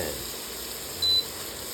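A mobile phone gives a single short low-battery beep, a faint high tone lasting a fraction of a second over the steady sizzle of food frying in a pan.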